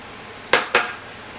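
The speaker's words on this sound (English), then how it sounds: "We're going to go ahead and partly cover it" A metal lid is set onto a pot of simmering marinara sauce, giving two sharp, close clanks in quick succession over a quiet kitchen background.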